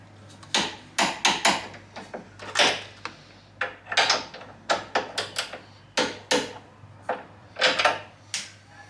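Torque wrench tightening the nuts on a car's front sway bar droplinks, a quick series of sharp metallic clicks and knocks, close and loud.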